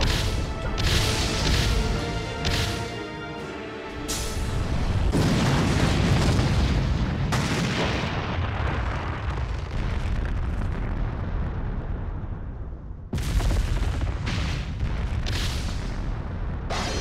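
Choji's butterfly bomb going off in Naruto Shippuden: Ultimate Ninja Storm 3 Full Burst, against the Gedo Statue, as a long, loud, roaring blast with heavy rumble and crashing debris that briefly cuts out and then bursts again.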